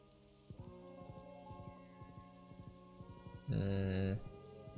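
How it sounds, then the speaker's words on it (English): Steady soft rain patters across a rainy day in Stardew Valley, under gentle melodic game music with plucked notes and a brief louder chime. "Is it because it's a rainy day?"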